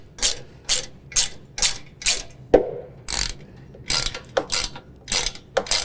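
A ratchet tightens nuts onto bolts holding a storage tray bracket on a John Deere Z735M zero-turn mower, with about a dozen quick, sharp clicking bursts in steady rhythm, close and loud, with a short pause midway.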